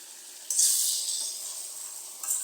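Fried potatoes and garlic hitting a hot pan, a soft steady sizzle that jumps louder as the food goes in, then settles into a continuous hiss with a second brief flare near the end.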